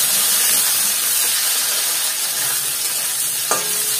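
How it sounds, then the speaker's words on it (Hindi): New winter potatoes fry with onions in a pan, giving a steady bright sizzle and hiss close by, with a brief clink of stirring near the end. "आलू को भी हम अच्छी तरह फ्राई कर लेंगे।"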